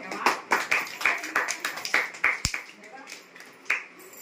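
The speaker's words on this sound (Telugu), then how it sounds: "క్లాప్స్ కొట్టండి బయటలో." Several people clapping at a family birthday celebration, a quick run of close, uneven claps that thins out near the end, with a sharp knock in the middle.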